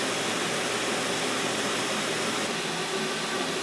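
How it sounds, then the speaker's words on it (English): Pomegranate jelly at a full rolling boil, a dense, steady roaring bubble with no pauses, close and fairly loud and alone with no talk. "bring it back up to a full rolling boil"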